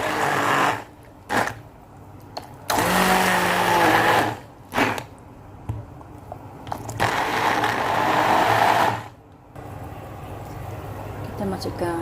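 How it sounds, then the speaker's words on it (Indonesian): Blender running in bursts on onion, garlic and tomatoes, loud whirring pulses starting and stopping several times with short gaps between. "Lalu kita blender bawang sama tomatnya."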